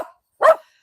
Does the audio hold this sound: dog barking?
yes